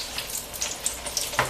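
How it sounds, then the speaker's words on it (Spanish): Dried guajillo and California chiles, seeded, frying in a skillet: a soft, steady crackling sizzle with faint popping, close and fairly quiet, no voices. "Ya nada más los dejé así ya listos para ser acitronados aquí en el sartén."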